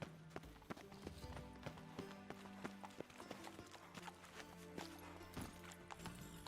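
Roach the horse galloping in The Witcher 3: Wild Hunt, a steady fast clip-clop of hooves with a rolling rhythm, close and continuous under faint background game ambience.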